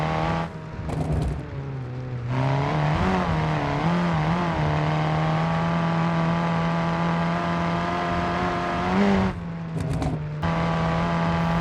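A Cherrier Tograc amateur rally car in BeamNG Drive runs on gravel, its engine holding a steady drone that rises and falls with revs and short throttle lifts, loud and close, with no talk.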